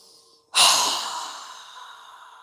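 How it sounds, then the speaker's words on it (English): One strong, breathy exhale through a wide-open mouth during a yoga breathing exercise, starting suddenly and close after a quiet pause, then trailing off slowly into a long airy fade. "inhale through our nose and exhale with our mouth open wide 3 times"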